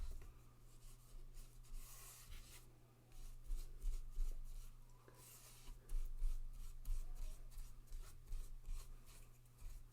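A brush spreading glue over scrapbook paper, a soft close rubbing and scraping in repeated strokes over a low steady hum.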